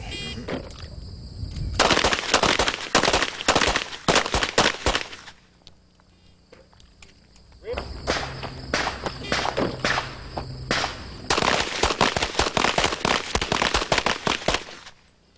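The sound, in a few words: gunshots at a practical pistol shooting match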